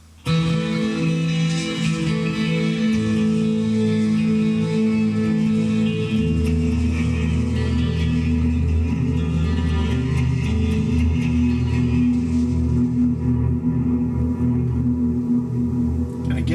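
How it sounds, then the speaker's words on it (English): A Walrus Audio Fable guitar pedal's sustained, booming reverb wash rings out, with low tones swelling and lingering as layered echoes trail off slowly. "It's got that big booming reverb,"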